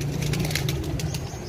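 Domestic flying pigeons in flight, a soft fluttering of wings with faint cooing against a steady low background hum, brief and fairly quiet.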